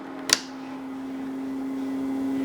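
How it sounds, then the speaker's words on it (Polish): Xbox console cooling fans running in eco mode give a steady, quiet electrical hum throughout, with one short click near the start and no talking. "Tak jest włączona wentylatory chodzą w trybie eko."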